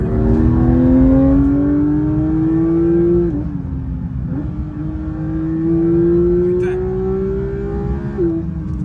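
Porsche 911 992 GT3 engine revving hard and accelerating, a loud rising mechanical wail with brief dips at gear changes, up close from inside the car.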